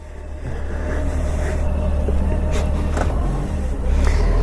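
A Honda Goldwing trike fitted with a trike kit rides along with a steady, continuous low engine drone and road rumble, close and constant throughout.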